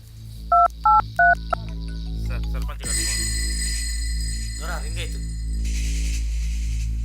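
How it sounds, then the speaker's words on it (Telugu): Three short, evenly spaced keypad beeps are followed by a buzzing phone ring tone over a steady low hum. "ఆ ఇరిగేషన్ ఇంజనీర్కి ఫోన్ కలుపు."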